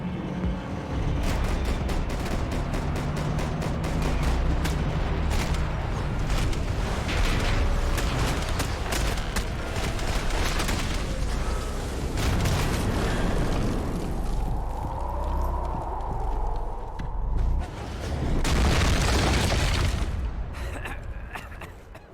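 Rapid gunfire from the video game Max Payne 3, a dense run of closely spaced shots mixed with rumbling action effects and a loud burst near the end, with no clear talk.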